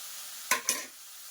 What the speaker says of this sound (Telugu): ఈ పచ్చిమిర్చి క్యారెట్ కూడా వేసేసి ఇవి కూడా ఫ్రై అవ్వనిద్దాం